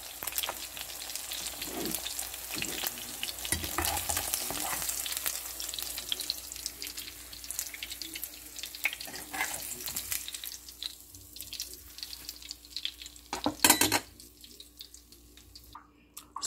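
Eggs and sweet yam (camote) fry in a pan, giving a steady close sizzle with scraping stir sounds, a brief splash of running water near the end and quieter gaps as the heat drops.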